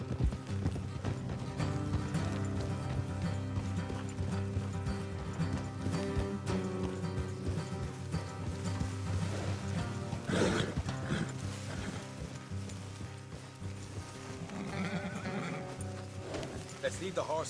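Horses whinny and their hooves clip-clop in the Western video game Red Dead Redemption 2, set under a constant bed of loud music and voices talking.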